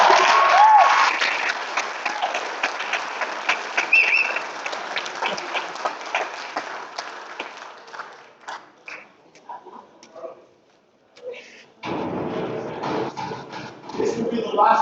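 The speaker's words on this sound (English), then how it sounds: "Give yourself a round of applause." An audience applauds at a live associates event, a dense sustained clapping that thins out into scattered claps, drops nearly to silence, then swells again into a fresh burst.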